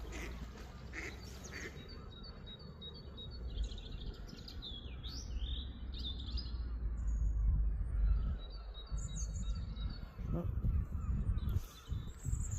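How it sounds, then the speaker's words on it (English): Territorial ducks, together with geese, honk and quack repeatedly outdoors during a spring walk near Huncoat, Lancashire, with chirping birds and rumbling wind throughout. "I never knew ducks were territorial."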